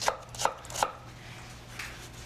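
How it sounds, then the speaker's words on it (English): A knife chops a peeled onion on a cutting board with three crisp, evenly spaced cuts close by, then a fainter fourth, with no talk. "After you peel the onion, you have it through the root end, of course, so that it's perfect for chopping."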